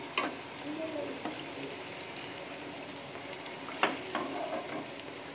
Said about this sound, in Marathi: आपण आता बाकीचे सर्व राहिलेले तळून घेऊया